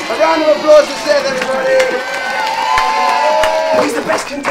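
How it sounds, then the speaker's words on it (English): In an episode of the animated Moshi Monsters TV show, a studio audience erupts in loud cheering, whoops and excited shouting for the contestant Seth, with several voices overlapping close up. "A round of applause for Seth"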